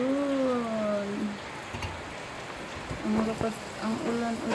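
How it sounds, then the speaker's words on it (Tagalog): Steady rain hisses down around an outdoor low-tide fishing spot, a continuous wash of patter throughout, with a voice talking over it at the start and again near the end. "Ang ulan-ulan."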